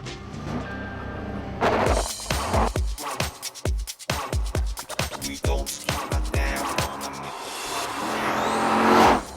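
A Chevrolet Corvette cabriolet's 5.7 litre V8 accelerates hard, loud close engine roar broken by rapid sharp bursts and crackles, rising again into a strong rev at the end.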